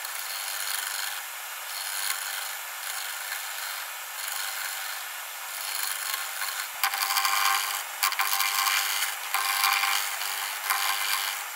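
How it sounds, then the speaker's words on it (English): A gouge shears across a spinning hexagon-style wooden bowl on a lathe, giving a steady hissing, rasping scrape that continues throughout, close and fairly loud with brief breaks and bursts, no talk. "just gonna clean this up now with a shearing cut"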